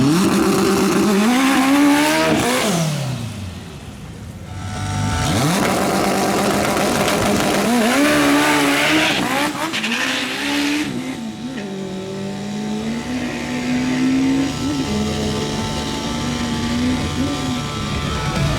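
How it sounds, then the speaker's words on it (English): A Honda Civic Turbo race car on a qualifying run accelerates hard, its engine climbing through repeated rising revs with gear-change dips, loud and close, with no talking. "First up is Juan Carlos Oviedo in his Honda Civic Turbo."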